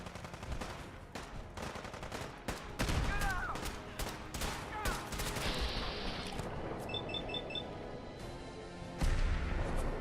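Rapid bursts of gunfire in Wasteland Warrior crackle through a busy game mix, with sharp repeated shots and a loud blast near the end.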